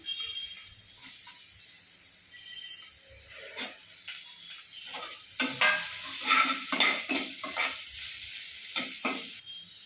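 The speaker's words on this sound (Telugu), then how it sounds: "ఇదే కడాయిలో మనం పోపుకి ఉల్లిగడ్డలు, పచ్చిమిర్చి వేసి మంచిగా ఎర్రగా గోలేదాకా ఉంచుకోవాలి" Onions and green chillies frying in a kadai for a paneer curry, with a soft sizzle under repeated spatula stirs and scrapes that grow louder and more frequent in the second half.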